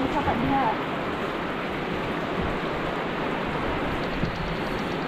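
Steady rain during a road trip on a Bukidnon mountain road, a dense continuous hiss heard from inside a vehicle, with faint talk early on.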